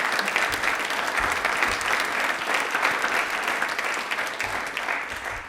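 Audience applause in a television quiz studio, dense and sustained clapping at even loudness for several seconds, tapering slightly toward the end.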